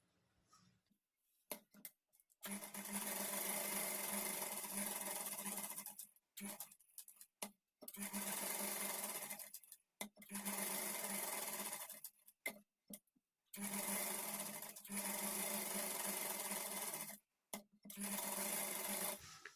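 Sewing machine stitching blouse lining to the main fabric in several loud bursts of steady rapid whirring, separated by short pauses, with no talk.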